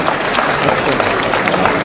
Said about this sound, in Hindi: वाह जोरदार ताली बजा भाई